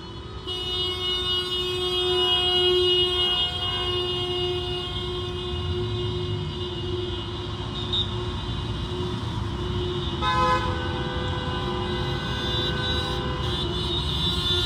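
Many taxi drivers honk car horns in a street protest in Timișoara, sustained overlapping horn blasts blaring together over steady traffic noise for the whole stretch, loud and near with no talk.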